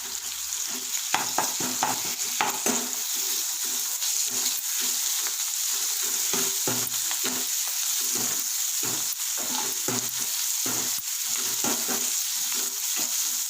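Ginger garlic paste fries with soya chunks in a pan, a steady loud sizzle with repeated scraping stirs and clatters throughout, no voices.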